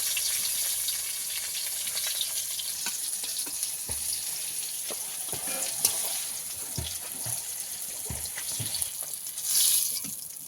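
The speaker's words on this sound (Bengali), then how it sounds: "এবার পটলটাকে আমি ভালো করে ভেজে নেব" Pointed gourd (potol) frying in oil, a continuous bright hiss of sizzling with occasional soft knocks from stirring, and a brief louder burst near the end.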